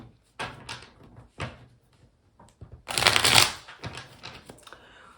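Rider-Waite tarot deck shuffled by hand in several riffling bursts, soft papery flutters that swell into one louder, denser shuffle near the end, close and quiet with no talking.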